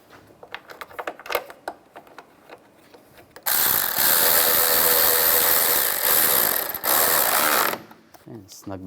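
A ratchet tightens bolts on a 2011-2019 Ford Explorer, first as quick, light clicking strokes, then giving way to a loud, sustained mechanical whir lasting about four seconds before fading to faint clicks.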